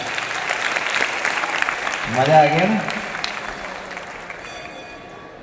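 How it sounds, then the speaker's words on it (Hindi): An audience at a stage event with dignitaries claps in steady, broad applause, rising briefly as a voice speaks over it, then easing toward the end. "जरा ताली बजाओ।"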